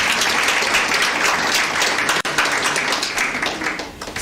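Audience applause at a judiciary and law society launch of a young advocates' mentorship programme, a dense, steady wash of clapping filling the room, loud and continuous with one brief dip midway.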